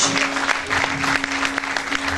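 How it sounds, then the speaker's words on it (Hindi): An audience at a felicitation ceremony breaks into sustained, dense clapping, close and loud, with a faint voice beneath. "उपस्थित दर्शकों से अनुरोध है कि जोरदार तालियों से स्वागत करें"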